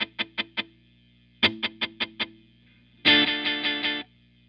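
A tape echo pedal with all four playback heads switched on and the echo turned down throws out three bursts of rapid, evenly spaced repeats, each fading in steps, the last a dense smeared cluster of distorted echoes.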